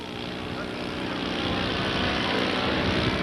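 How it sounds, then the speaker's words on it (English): A Tiger Moth biplane makes a slow flyby at an air show, its propeller engine droning steadily and growing slightly louder as it passes. "here is this Tiger Moth doing its slow flyby"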